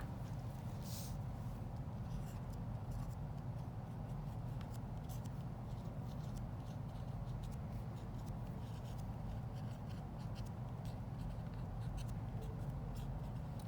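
Marker or chalk writing an integral on a board, steady faint scratching and tapping strokes over a low room hum, no talking.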